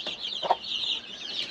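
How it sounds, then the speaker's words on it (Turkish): Young pullets, seven of them, clucking softly inside a hobby coop in Kastamonu, Taşköprü, with a brief louder cluck standing out above a steady faint background of chick-like chatter. "7 tane ferik. Tavuk adayı."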